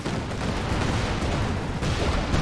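Katyusha rocket artillery firing in a World War II strategy video game, a dense, continuous roar of launches and blasts that stays loud and steady throughout, with no voices.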